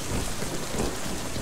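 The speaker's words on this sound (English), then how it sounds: "Yeah, it must have been the rain," Heavy rain pours steadily with a deep thunder rumble underneath in the video game Crysis 3, a dense unbroken wash of storm noise with no voices.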